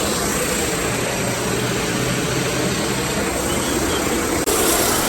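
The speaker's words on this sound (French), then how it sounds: "L'avion est ici." An airliner sits close by at departure, its engines giving a loud, unbroken broadband roar with a faint high whine, steady throughout apart from a brief dip near the end.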